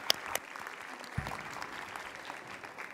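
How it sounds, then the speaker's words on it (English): Audience applause welcoming the Governor of Veracruz at a formal videoconference event, a short, fairly soft patter of clapping heard at a distance. "please give a warm round of applause to welcome the Honorable Governor of the State of Veracruz"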